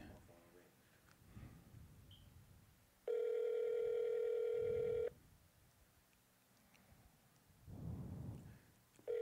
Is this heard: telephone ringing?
yes